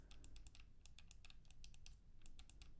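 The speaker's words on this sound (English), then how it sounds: "Here's a quick sound check of the mechanical buttons on the G7." Mechanical buttons on a GameSir G7 HE controller are pressed in quick bursts, giving close, crisp clicks in irregular rapid runs with brief pauses between them.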